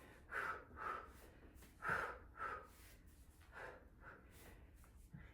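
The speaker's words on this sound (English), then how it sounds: "I'm gonna take 2 breaths out" A person breathes out during a core exercise, pulling a leg in twice, with about eight close, forceful exhales in paired bursts, some sharp and nasal.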